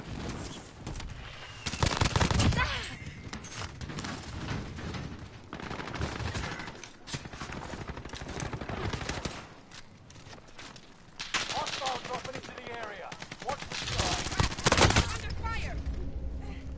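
Gunfire in the video game Call of Duty Warzone on Rebirth Island, with bursts of shots at varying distances, some loud and close, scattered through the fight while players talk over it.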